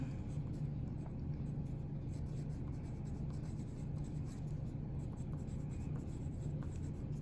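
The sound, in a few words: writing with a pencil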